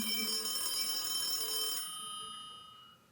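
At a Chicago innovation gala, a telephone rings during a hotline call: a bright electronic ring sounds for under two seconds, then its ringing tone fades away into quiet.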